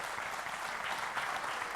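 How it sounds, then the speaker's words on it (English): Audience applause at an astronomy expo talk welcoming a speaker, a dense, steady clapping from a crowd filling the whole moment without voices. "Please give a big round of applause"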